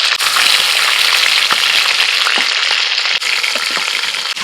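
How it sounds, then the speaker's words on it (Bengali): Chicken sizzles and crackles in hot oil, a loud close continuous fry with scattered pops and light stirring sounds. "দু পিঠে একটু উল্টো পাল্টা হালকা করে ভেজে তুলে নেবো"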